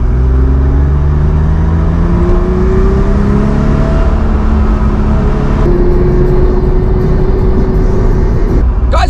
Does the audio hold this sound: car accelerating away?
yes